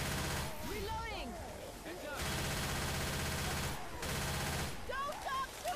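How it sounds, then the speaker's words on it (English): Sustained gunfire in the co-op shooter Left 4 Dead 2 during a 10-versus-10 match against a Tank, rapid continuous bursts broken by short pauses, with players shouting over the shooting. "Don't stop shooting!"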